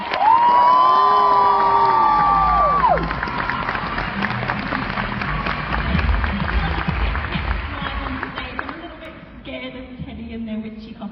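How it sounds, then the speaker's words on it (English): An audience at a cosplay competition cheers, whoops and applauds loudly, with an amplified voice over the crowd at first, then the noise stays dense and gradually fades toward the end. "Everyone give one more cheer for Teddy."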